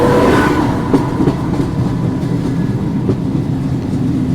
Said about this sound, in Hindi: ये है इंडिया की लॉन्गेस्ट रनिंग संपर्क क्रांति एक्सप्रेस